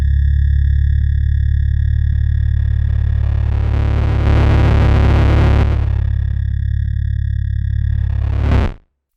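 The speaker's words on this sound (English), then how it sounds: "this will control the amount of distortion in the processed noise that we're doing" A Boss RC-505 loop station's lo-fi distortion effect: a steady, harsh distorted drone with buzzing tones swells in the middle, then cuts off abruptly at the end.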